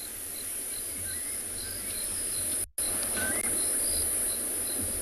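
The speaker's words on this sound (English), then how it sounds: "There's a lot of birds calling." Many birds call in a steady chorus of faint chirps and whistles on an afternoon safari in South Africa near elephants, mixed with constant insect buzzing and a brief dropout partway through.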